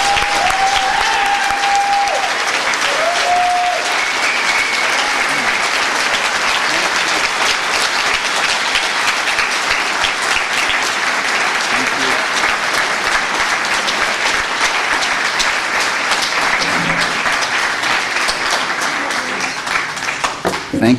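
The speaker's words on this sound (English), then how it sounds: "It's always embarrassing when the applause you get before you speak are longer than the applause you get after" Loud, sustained audience applause welcoming a speaker at a lecture on the 1953 Iran coup, thick continuous clapping that holds for about twenty seconds, with a brief tonal whine early on and a slight tapering at the end.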